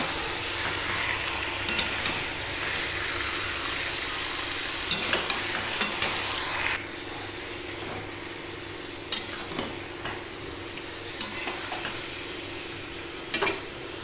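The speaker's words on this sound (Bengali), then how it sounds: "এবারে আমি সম্পূর্ণটাকে এবার নেড়ে দেব।" Chicken curry with potatoes frying in a pan, stirred: a steady loud sizzle that drops partway through, with scattered scrapes and clinks of the spoon against the pan.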